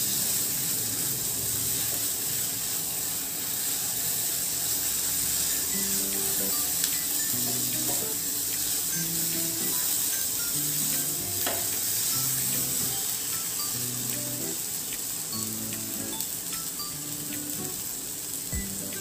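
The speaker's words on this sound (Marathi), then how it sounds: "आपण हे मिश्रण तेल सुटेपर्यंत परतून घ्यायचं आहे।" A masala mixture sautéing in oil in a pan until the oil separates, a steady close sizzle and hiss with occasional stirring scrapes, no talk.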